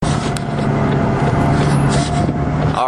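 A McLaren 620R road-going race car engine drones loudly and steadily from inside the cabin, with wind and road roar blending into the constant engine note.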